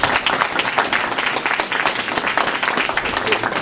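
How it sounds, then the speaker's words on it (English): An art show audience applauds itself, with dense, continuous clapping from a sizable crowd that stays loud and steady throughout, with a few voices mixed into the noise. "So give yourselves a round of applause again for that."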